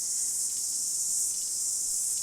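A male cicada gives off a constant, shrill, high-pitched buzzing vibration, steady and unbroken throughout, fairly loud and alone with no voices.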